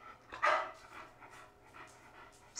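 A small Bichon dog pants softly and rapidly indoors, faint quick breaths with one louder huff near the start, with no talk over it.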